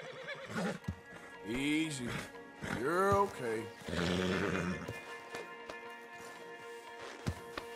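Horse in Red Dead Redemption 2 whinnying in several loud, rising-and-falling neighs with a few hoof clops, while someone speaks calmly over it.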